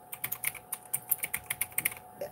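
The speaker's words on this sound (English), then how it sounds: "trying out this keyboard" A Knewkey computer keyboard is typed on at a quick, steady pace, giving a run of about fifteen close, crisp key clicks in a quiet room.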